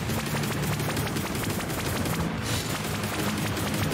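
Dense, continuous gunfire from the Anvil: Vault Breakers video game, with rapid repeated shots filling the whole stretch at steady loudness and no pauses.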